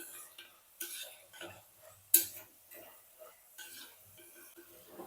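Tomatoes being stirred in a pan until they blend for a moth bean usal, with soft scraping strokes, faint sizzling and occasional sharp clinks of a spoon against the pan.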